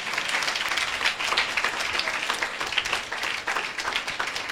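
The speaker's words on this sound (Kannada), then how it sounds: "ನಾವು ಚಪ್ಪಾಳೆ ಹೊಡಿಬೋದಾ ದೇವರಿಗೆ?" A church congregation at a fasting and prayer meeting claps together in a dense, continuous round of applause, fairly close and lively.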